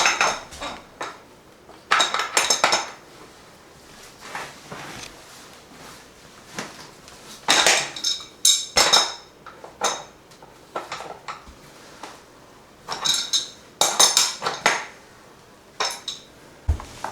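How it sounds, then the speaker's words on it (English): Metal clanks and scrapes of a big wrench working on a water filter fitting, irregular clinking bursts and knocks spread across the stretch, fairly close with quiet gaps between. "Get my old handy big old wrench here."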